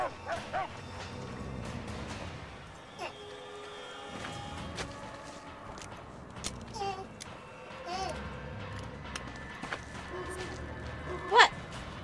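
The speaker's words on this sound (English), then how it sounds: "You hear the puppy?" A puppy barks and whimpers in short, high yips and whines, faint and intermittent, over game sounds and a voice.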